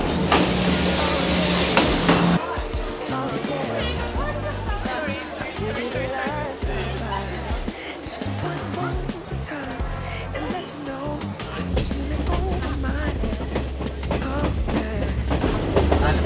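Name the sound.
train from Kandy to Ella in Sri Lanka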